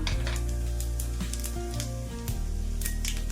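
Mustard seeds and cumin sizzling in hot oil as a tempering for Andhra gongura pickle: a steady sizzle sprinkled with sharp crackles and pops, close to the pan, with no talking.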